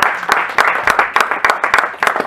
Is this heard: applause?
yes